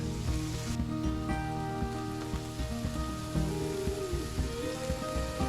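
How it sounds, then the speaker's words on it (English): Onion, red capsicum and garlic fry steadily in a pan, a close, continuous crackling sizzle with no voices. "So I'm just letting those fry up a little bit with garlic."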